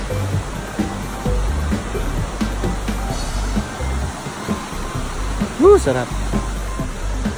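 A fresh free-flowing river on a nature trail, a steady rushing wash of water close by. People talk over it and one lets out a brief shout.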